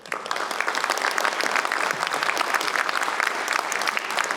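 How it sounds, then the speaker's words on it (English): A crowd claps steadily in sustained applause, a dense patter of many hands filling the room, fairly loud and even throughout. "Mr. Mike Cox, let's give him a round of applause."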